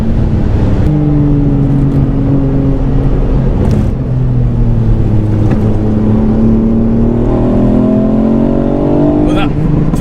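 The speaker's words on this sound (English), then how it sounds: "that 3-cylinder engine coupled with that hybrid turbo is so punchy" Ford Fiesta ST Mk8 three-cylinder hybrid turbo engine on a race track, a loud continuous drone with engine pitch rising and falling through revs and gear changes, close and dominant, with a voice talking faintly under it.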